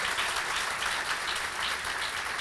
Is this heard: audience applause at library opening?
yes